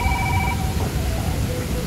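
A telephone ringtone chirps briefly at moderate volume over a dense, noisy room background, fading after the first half-second.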